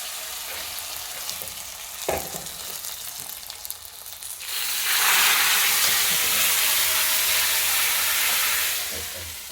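Spices hit hot oil for tempering a homemade pickle, bursting into a loud, steady sizzle that swells midway and holds, close to the pan, after a quieter stretch of background noise and a clank.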